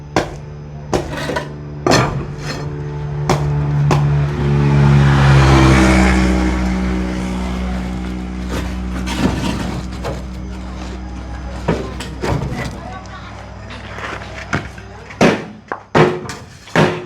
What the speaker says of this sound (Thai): ตอกให้มันยึดให้มันแน่นเนี่ย